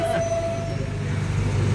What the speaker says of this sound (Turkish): Ay tren geldi. Dev gibi tren geldi.